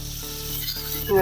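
Green chillies roast in plenty of hot oil for mirchi thecha, a loud, close, steady sizzle that swells slightly toward the end.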